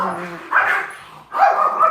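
Two Yorkshire terriers bark in sharp, high yapping bursts, close by and loud, with a brief pause between the two barking spells.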